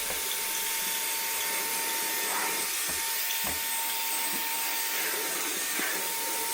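A Vax HandVac Pro handheld vacuum runs steadily on standard mode, sucking up dry cereal crumbs, crushed biscuit and Cocoa Pops, with a constant whine and occasional clicks and rattles of debris being pulled in.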